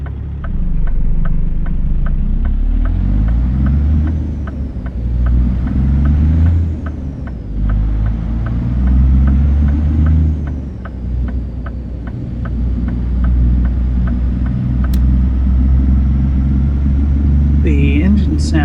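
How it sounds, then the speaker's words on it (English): A Cummins X15 diesel truck engine in American Truck Simulator idles with a deep, steady low rumble, occasionally revving slightly; a brief hiss near the end. "The engine sound in the truck today is another one of Flav Jerry's engine mods. It's the Cummins X15."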